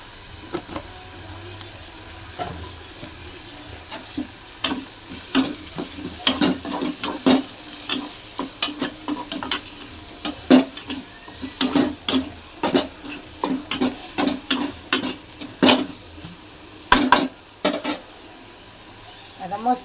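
Ingredients for dried-shrimp chutney sizzle steadily in a frying pan while a spatula stirs and scrapes in quick, uneven strokes, close and fairly loud throughout.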